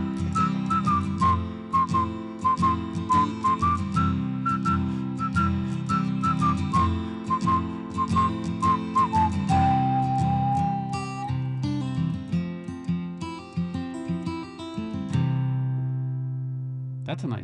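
A man whistles the chorus melody of a song in a radio studio, a clear sustained tune over steady bass and guitar accompaniment before the music drops off near the end.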